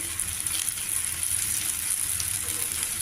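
Tender ivy gourds (tindora) stuffed with spicy masala fry in oil, a steady close sizzle and bubbling hiss that continues throughout with no talking.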